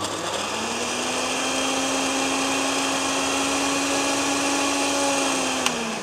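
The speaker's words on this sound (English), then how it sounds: "And then we blend until smooth" A blender blending a smoothie runs continuously at high speed with a steady whirring motor tone, loud and close, its pitch dipping slightly near the end.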